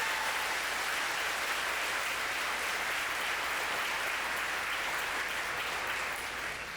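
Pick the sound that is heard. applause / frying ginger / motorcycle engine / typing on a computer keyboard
applause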